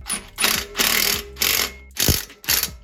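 An impact wrench tightens turbo bolts on a 2JZ GTE engine in four or five loud, close bursts of buzzing hammer that stop and start in quick succession, with short silences between them.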